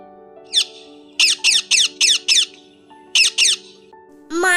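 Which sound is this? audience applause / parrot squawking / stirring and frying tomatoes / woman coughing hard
parrot squawking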